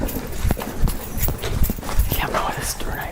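Hurried footsteps thump and scuff inside an abandoned building, loud and close, mixed with rustling and noisy movement as people run.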